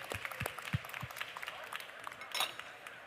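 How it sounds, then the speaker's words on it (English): A studio audience applauds a chef after a cooking demonstration and question session, the clapping steady but fairly faint and diffuse, with small clinks in the room throughout. "let's give Chef a round of applause."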